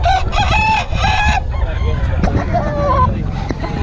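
Rooster crowing loud and close at a chicken market, two drawn-out crows in quick succession followed by clucking and a later crow amid busy market noise.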